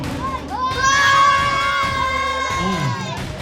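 A crowd of children shouts and cheers loudly together at a baby gender reveal, sustained high voices rising and falling, close and energetic.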